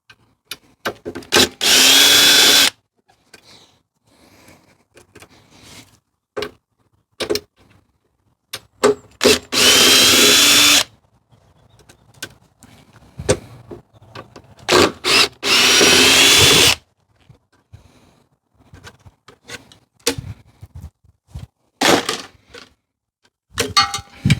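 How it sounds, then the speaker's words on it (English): An angle grinder cuts through bolts on a treadmill being scrapped for metal, three loud, sustained screeching bursts of a few seconds each, separated by quieter clanks and handling noises. "We're going to have to grind these bolts off"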